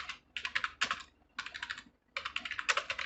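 Computer keyboard typing of an AutoCAD command shortcut during a mechanical drafting class comes in three quick, close bursts of crisp clicking keystrokes separated by short pauses.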